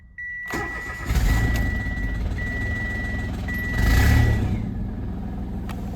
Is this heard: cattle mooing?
no